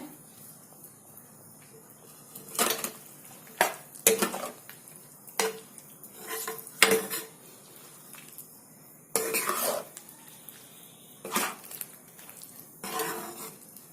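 A spoon clinks and scrapes in a pot while salt is mixed into raw mango pickle with jaggery, giving a handful of separate metallic knocks and rubbing strokes over a quiet background.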